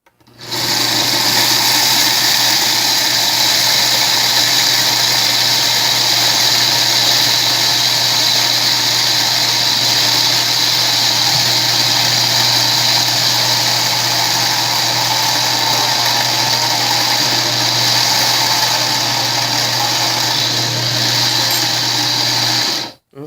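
An Oster blender runs steadily on low, blending SunButter, with a loud, continuous motor whir and a grinding churn that hold evenly for over twenty seconds with no talking.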